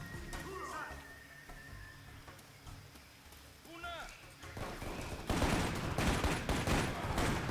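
Gunfire in a shooter video game, with scattered shots early, then a heavy sustained burst of rapid fire in the final seconds, loud over background game sounds.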